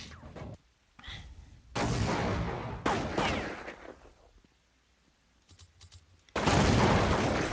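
Counter-Strike gunfire on de_nuke comes in long sustained sprays, three broadband bursts separated by quieter gaps, heard at a fairly low level.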